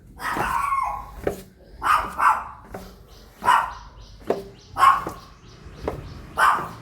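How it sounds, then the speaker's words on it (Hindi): A dog barks repeatedly at close range, loud yelping barks coming in a steady series about once a second, with no talk over them. "देखिए डॉगी चलते हैं।"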